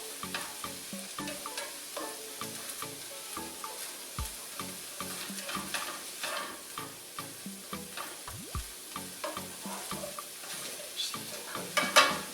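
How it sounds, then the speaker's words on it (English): Kielbasa sausage and onions sizzle and fry in a pan, a steady crackle broken by repeated stirring scrapes, close and fairly quiet with no talking. "you can see the onions already getting"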